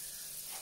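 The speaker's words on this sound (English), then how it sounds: "And we're gonna let that sizzle up." Butter sizzles in a pan, a soft, steady crackling hiss heard close up for a brief moment while Italian food is cooked.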